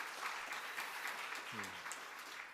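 Church congregation at a Sunday service applauding to welcome retired elders, a steady wash of clapping throughout, with a brief voice breaking through midway.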